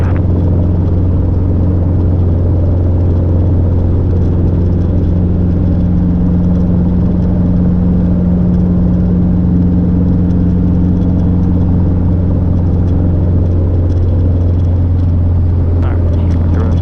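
A Robinson R-22 helicopter's engine and rotor drone steadily and loudly from inside the cabin during a flight lesson, a constant low hum with tonal bands and no break across the whole stretch.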